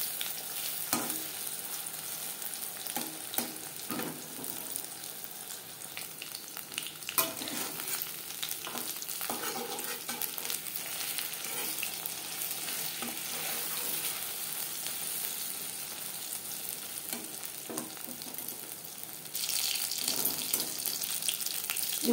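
Stuffed pointed gourd frying in oil on a low to medium flame, giving a continuous hissing sizzle with occasional spatula taps and scrapes, close and steady throughout.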